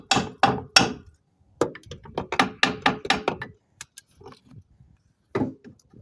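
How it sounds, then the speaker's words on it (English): Sharp hammer blows close by on a 1978–80 Plymouth Volare during disassembly, a quick burst of strikes then a rapid run of lighter taps, pauses, and a final couple of knocks. "We can probably use a hammer for this."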